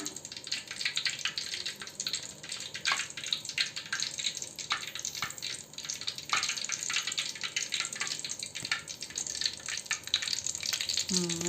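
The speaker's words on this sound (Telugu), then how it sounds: "సో నిదానంగా డిప్ చేసేసుకొని ఆయిల్లో వేసేసుకుందాం" Raw banana bajji fritters fry in hot oil with a steady crackling sizzle and scattered pops, faint and continuous, while a person talks quietly over the frying.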